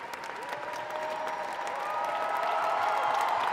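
Adult audience applauding at the close of an inclusive Erasmus+ arts stage performance, a steady wash of clapping that swells slightly louder over a few seconds, with faint crowd murmur and a sustained tone running beneath.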